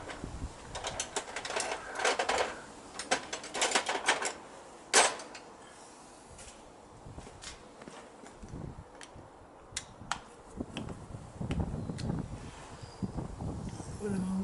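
A screwdriver works on the headlight of an XS650 motorcycle. Close metallic clicks and ratcheting scrapes come in irregular bursts, with a sharper clack partway through. A voice talks intermittently.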